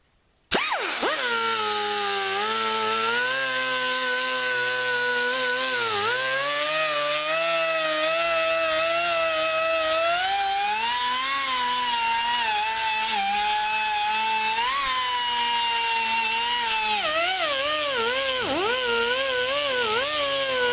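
A high-speed rotary tool with a sanding drum whines steadily for a long stretch, its pitch sagging and recovering as it bears down on the hard metal of a 4.7L Dodge/Jeep throttle body during porting and polishing.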